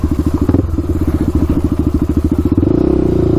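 A Honda 400ex quad engine runs loud and close while the rider tries wheelies, throbbing in a fast, even pulse before revving higher near the end.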